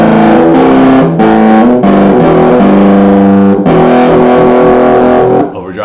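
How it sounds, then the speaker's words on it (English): Overdriven Peavey Predator EXP Plus electric guitar, a damaged instrument, rings out loud and sustained chords with a thick distorted edge, changing every second or so with brief gaps between, no voice over it. "Let's try a little bit of overdrive here and see what this sounds like."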